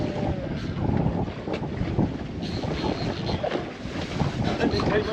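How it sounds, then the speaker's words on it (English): Wind buffets the microphone in low, rumbling gusts, with faint splashing water and a murmur of background sound. "you can probably hear on the camera the wind picking up"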